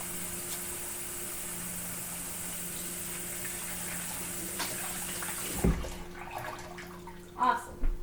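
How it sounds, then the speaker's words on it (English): Running tap water while hands are washed at a kitchen sink before making homemade salsa, a steady broadband wash for most of the clip, then a few louder splashes and clatters near the end. "start by washing your hands"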